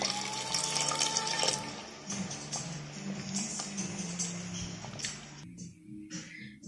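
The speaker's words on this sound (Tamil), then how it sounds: "இப்போ 1/2 வந்த பிறகு தேங்காய் பால் ஊற்றிடலாம்" Coconut milk pours and splashes softly into a pot of boiling moong dal payasam, a quiet continuous trickle with faint bubbling, tapering off near the end.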